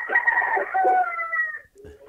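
Several birds call close to a phone during a call-in conversation, giving drawn-out, tonal coos that fill most of the moment before fading into quiet.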